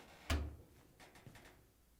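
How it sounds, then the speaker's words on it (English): A GE dryer door swings open with one sharp thump-click, followed by a few faint softer knocks in a quiet room. "To get it apart, we need to open the door."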